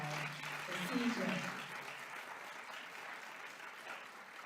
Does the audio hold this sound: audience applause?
yes